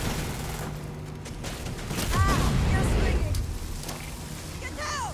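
A grenade goes off in a sci-fi shooter game, a thick rumbling blast swelling mid-clip over steady gameplay noise, with whistling weapon tones and chirps around it.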